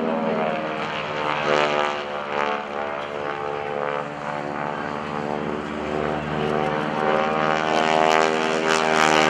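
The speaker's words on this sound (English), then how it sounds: "This airplane has a 600 horsepower motor on it." A 600 horsepower propeller airplane drones loudly and continuously overhead at an airshow at NAS Oceana, its engine hum steady with a slight rising pitch.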